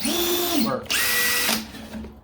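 A Ridgid sub-compact cordless impact driver whirs up close in short bursts with a low, deep sound, its motor pitch rising and falling between runs, with a brief pause between them.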